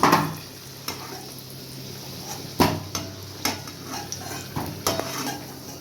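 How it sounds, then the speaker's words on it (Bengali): Fried potato pieces for a Bengali-style mutton dish are lifted out of hot frying oil into a bowl: a low oil sizzle runs throughout, punctuated by several sharp metallic clinks and scrapes of a utensil against the pan and bowl. "আলুটা ফ্রাই হয়ে গেছে, এবার আমি নামিয়ে নেব একটা বাটিতে"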